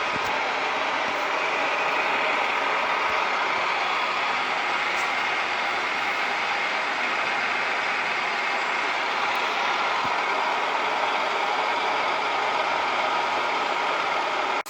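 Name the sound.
milling machine starting for spur gear cutting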